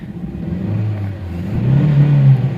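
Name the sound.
Honda Insight engine revving with misfire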